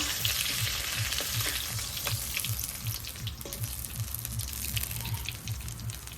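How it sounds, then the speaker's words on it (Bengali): Sea fish frying hard in hot oil in a village kitchen, a loud continuous close sizzle and crackle with steady popping, unbroken by speech. "তো সমুদ্রের মাছ, তার জন্য একটু কড়া করেই ভেজে নিলাম"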